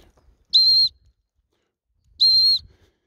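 Two short, shrill high-pitched dog training whistle blasts during retriever water training, each about a third of a second, separated by a pause, sounding clear and fairly close.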